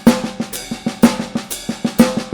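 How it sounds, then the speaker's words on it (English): A drum kit plays a groove with the right hand on the ride cymbal and the hi-hat keeping the pattern, crisp regular strokes repeating steadily and close, with no voices. "now we're going to move the right hand to the ride cymbal, and we'll play a pattern with the hi-hat"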